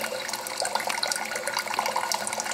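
Water pumped by an antique Essex hot air Stirling engine splashes and pours steadily outdoors, a continuous hissy gush like a running tap, with no speech over it.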